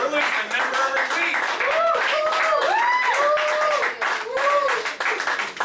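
Audience applause and clapping at a comedy show, loud and continuous, with a voice talking over the crowd throughout.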